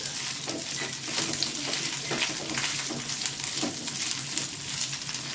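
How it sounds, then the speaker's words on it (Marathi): Halved okra fries in hot oil over a high flame, giving a steady, crackling sizzle close by with soft stirring, and no talk. "तेलात भेंडी टाकून घेऊ आणि फास्ट गॅसवर आपल्याला चांगली भाजून घ्यायची होती तेलात"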